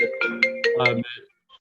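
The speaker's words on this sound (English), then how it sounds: "my phone went" A mobile phone rings during a town architectural review board meeting, playing a short bright melodic ringtone of several rising and falling notes for about a second before it cuts off.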